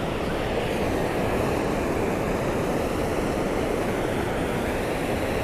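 Waterfall at a catfish fishing spot, heard as a loud, steady, dense rush of falling water that fills the whole clip without a break.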